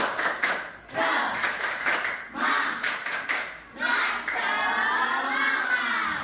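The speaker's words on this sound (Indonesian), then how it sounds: "Tepuk semangat ya." Schoolroom audience performing a rhythmic spirit clap in unison, bursts of claps in quick patterned groups, fairly close, with a leader's voice and some crowd voices between the clapping.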